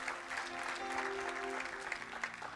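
Church congregation giving a strong round of applause to God during a Spanish-language sermon, a brief burst of dense clapping heard at moderate distance, filling the whole moment.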